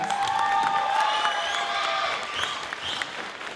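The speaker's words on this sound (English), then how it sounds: "what a great round of applause" A crowd at the Miss Earth NZ finals pageant applauds the contestants, a sustained patter of clapping with a few cheers and whoops rising over it, heard from a moderate distance and gradually easing.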